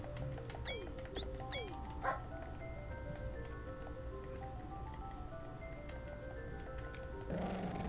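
A dog barks repeatedly in the Magic Knight Rayearth video game, sharp synthesized yips coming in a quick burst early on, backed by game music and tones with no talking.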